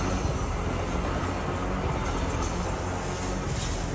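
A train rumbles past nearby. It is a steady, broad, continuous roar, fairly loud and even throughout, with no voices.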